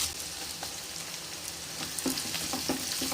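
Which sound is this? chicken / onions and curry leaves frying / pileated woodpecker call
onions and curry leaves frying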